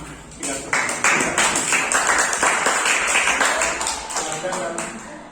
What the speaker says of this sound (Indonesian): Kita beri aplaus dulu ya, biar semangat.